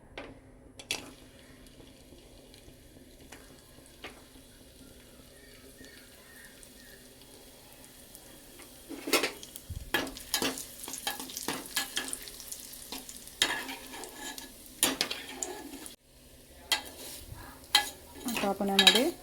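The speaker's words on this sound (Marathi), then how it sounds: "त्यामध्ये आपण सर्वप्रथम आपले मनुके भाजून घेणार आहोत" Raisins roasting in hot homemade ghee in a pot: a quiet sizzle that grows louder with clattering stirring after the first few seconds, a close, uneven crackle with intermittent scraping of the spoon against the metal pot.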